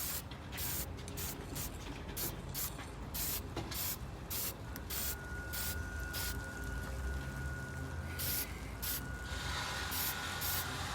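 Mohawk Brass Lac lacquer sprays in a steady continuous hiss from an aerosol can onto brass grandfather clock weights, with short pauses and bursts throughout and no talking.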